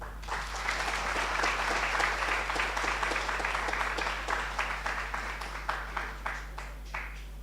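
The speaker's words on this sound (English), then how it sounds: "another round of applause for Professor Boxill" An orientation audience applauds Professor Boxill, broad sustained clapping from a sizable crowd that thins toward the end into scattered individual claps, over a low steady electrical hum.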